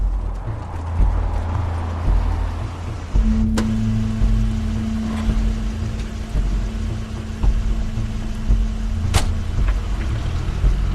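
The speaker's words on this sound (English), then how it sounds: "That's Crane's car." An in-game car pulls up in The Wolf Among Us, a steady engine hum with a low sustained tone entering partway through, plus a couple of sharp clunks like doors or footsteps against a busy ambient background, no talk.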